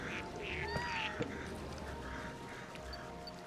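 Several ducks quack in repeated nasal bursts at moderate distance in New Pokémon Snap, over a soft steady background hum.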